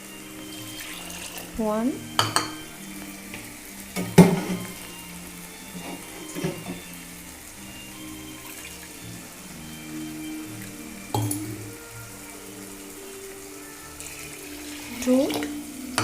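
Water pours and splashes into a rice pot in uneven bursts, fairly close, with a voice briefly heard and background kitchen clatter.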